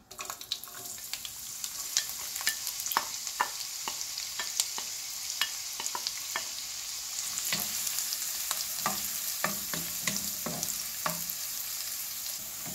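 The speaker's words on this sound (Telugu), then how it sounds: "ఆయిల్ వేడెక్కాక ఇప్పుడు ముందుగా ఉల్లిపాయలు వేసుకోవాలి" Onions fry in hot oil with a constant close sizzle, broken by frequent sharp crackles and pops and now and then the scrape of stirring, with no talking.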